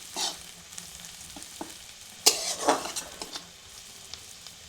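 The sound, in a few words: onion frying and being stirred in a pan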